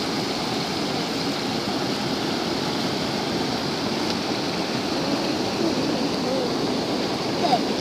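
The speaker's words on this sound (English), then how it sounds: "So we're down here at the falls now" Waterfall at a river with eels, a constant broadband rushing roar, loud and even from start to finish.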